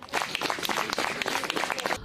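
People at a polling station clap for the president as she leaves, a dense, fairly quiet patter of many hands over a couple of seconds with a crowd murmur behind it.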